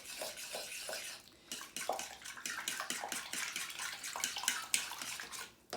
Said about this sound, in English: I'm just going to slowly mix it.